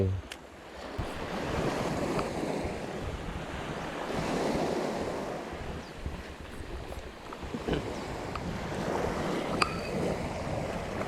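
Strong wind buffets the microphone on a beach during shore squid fishing, with waves surging and washing in the background and a few faint clicks.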